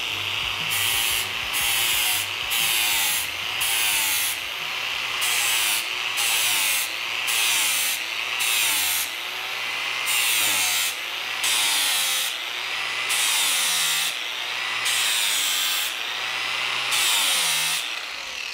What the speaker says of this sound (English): using this flat sanding disc on the angle grinder